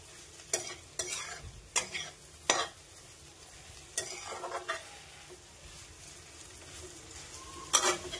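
Square chapati pieces sautéing with onions in a pan, soft sizzling broken by sharp spatula scrapes and clinks at irregular intervals, close up, no talking.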